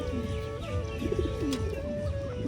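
A Fulshira pigeon in a home loft coos up close, several rolling throaty phrases in quick succession with faint chirps in the background and no talking.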